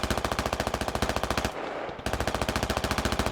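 A vehicle's coaxial machine gun fires in a video game, loud rapid bursts in a steady rhythm, pausing briefly mid-way before the fire resumes.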